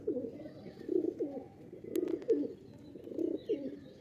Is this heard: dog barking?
no